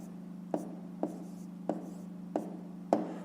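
A pen writes on paper during a math exercise, making five short, evenly spaced scratching strokes over a steady low electrical hum.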